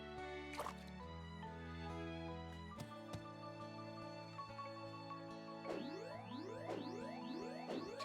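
Crops are watered in Harvest Moon Animal Parade as soft dripping splashes sit under gentle game music, followed by a quick series of rising sweeping watering chimes.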